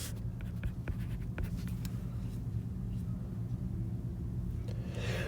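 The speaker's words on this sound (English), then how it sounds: "So I'm just going to choose to write it like this." Pen or marker writing out an algebra equation while completing the square, with scratchy strokes and taps over a constant low rumble of background noise.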